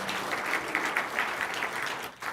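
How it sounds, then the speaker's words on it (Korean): A church congregation claps in welcome for a visiting missionary, a steady roomful of applause that holds evenly and then thins out abruptly near the end. "환영의 박수 한번 해주시길 바랍니다."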